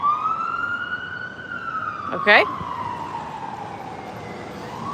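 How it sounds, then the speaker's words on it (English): A fire truck siren wails with a long, steady rising and falling tone as it passes along a city street in New Orleans. A person briefly speaks partway through, and traffic rumbles underneath. "Oh, that's an ambulance. That's fire,"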